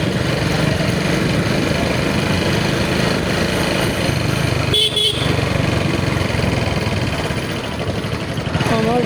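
A delivery rider's motorcycle, headlight not working, runs steadily under way through a heavy evening traffic jam in a dark residential area. The engine drone is loud and continuous throughout, with a brief horn-like tone near the middle.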